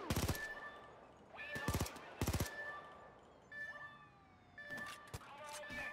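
CMP submachine gun in Payday 2, fired during the Jewelry Store heist: several short, crackling automatic bursts with wailing police sirens rising and falling between them.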